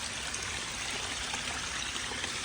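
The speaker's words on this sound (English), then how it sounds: "This catches all the water from up around the chickens, and the lights on this thing." Water runs steadily into a catch basin on a farm homestead, a continuous close trickling rush that stays even and unbroken throughout, with no voices.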